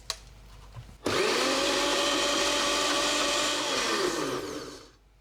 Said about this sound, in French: Je vais mixer à nouveau, toujours avec la même lame évidemment.